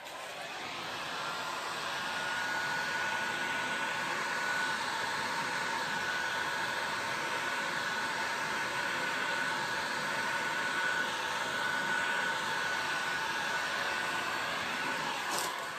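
Heat gun blowing steadily across an ocean pour resin tray table top, a continuous loud airy rush with a faint whine, running alone for the whole stretch.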